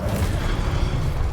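Casting the Incendio fire spell in Hogwarts Legacy gives a dense, rumbling burst of flame that roars continuously at a loud, even level throughout.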